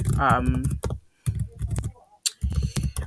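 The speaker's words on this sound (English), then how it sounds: "I don't know if you guys always hear typing when I'm doing these episodes as well." Rapid clicking of keys on a computer keyboard runs under a person talking, with the taps clearest in brief pauses between phrases.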